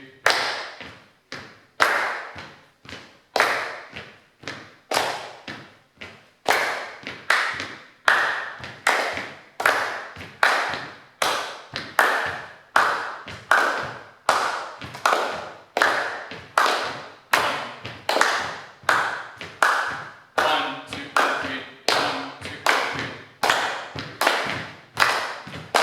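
Hands clapping a steady juggling rhythm, loud close claps in repeated groups of three that keep an even tempo for about half a minute, with no talking.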